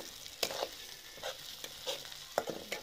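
Quiet sizzle of sliced onion and green chili frying in a pan, with occasional light clinks and scrapes of stirring spaced across a soft, low-level hiss.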